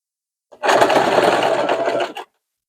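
A sewing machine stitches trouser seams in one quick, close, continuous whirring run lasting under two seconds, with nothing else heard.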